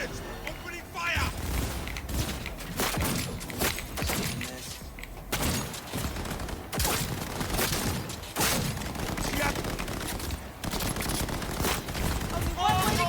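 Video game gunfire plays as dense, continuous bursts of rapid shots and booming thuds. The firing is loud and sustained, and voices shout over it throughout.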